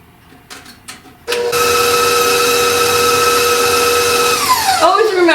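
An electric stand or hand mixer whirs steadily while beating ricotta cookie dough until it turns creamy. A brief voice comes first, then the loud, even motor hum runs on before it slows and winds down near the end.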